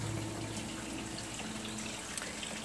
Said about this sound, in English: water beds filling and emptying. You can see it's emptying right now. That's the water coming out.